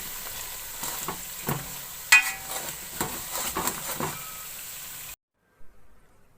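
Red chilli powder and turmeric masala frying in a pan for a chicken palak dish, with soft sizzling and several scraping stirs of a spoon against the pan, then a brief silence and one last small clink.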